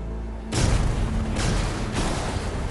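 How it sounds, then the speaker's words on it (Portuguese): Three heavy booming explosions of torpedoes hitting a tanker ship in a submarine game, in quick succession, each a deep rumbling blast that swells and lingers, with no voices. "Outras 3 explosões selam o destino do navio-tanque."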